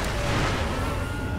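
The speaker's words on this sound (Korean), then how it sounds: "이게 난리 친다 싶을 때 폭죽" Firecracker prosthetic tool in Sekiro fires off as a brief burst of sharp, dense crackling and popping, loud and noisy throughout, with no talk over it.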